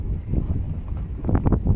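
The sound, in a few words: strong wind outdoors in the countryside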